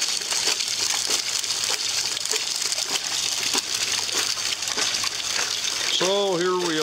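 A gold jig machine runs with water flowing through it, giving a loud, continuous churning wash of water and rattling material, with a voice briefly heard near the end.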